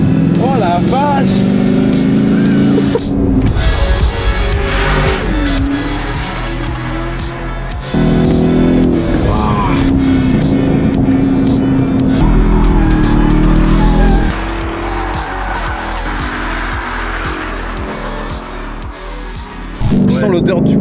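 A drift car skids around a race circuit, loud engine revving with bursts of tire squeal, continuous and close, with people talking over it throughout.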